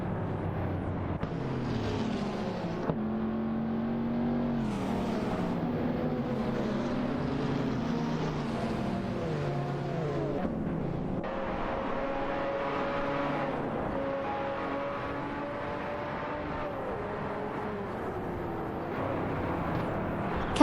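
Racing engines from a Ferrari Portofino and a Bentley Continental GT battle in a video game, a continuous loud drone of revving motors with shifting pitch and no speech.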